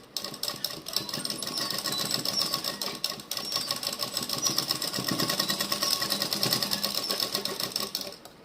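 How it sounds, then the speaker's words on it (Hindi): A sewing machine stitches a dress seam in a steady, fast mechanical whir with rapid needle clatter, running continuously and close up with only a brief slowdown midway. "इसी तरह से हाफ इंच छोड़ करके सिलाई लगा दूँगी"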